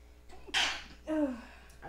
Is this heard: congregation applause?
no